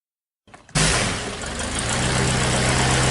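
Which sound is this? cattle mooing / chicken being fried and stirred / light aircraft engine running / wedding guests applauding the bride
light aircraft engine running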